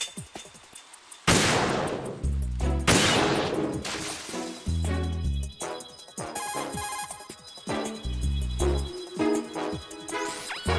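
Gunfire in a Metal Gear Solid game comes as loud, irregular bursts of shots separated by short gaps, with ringing metallic tones and impacts between volleys.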